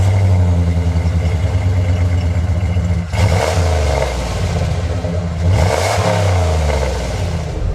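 A 1998 Jeep Grand Cherokee V8 revs twice from idle, each blip rising into a loud deep grumble before settling back to a rough idle, close by with no speech.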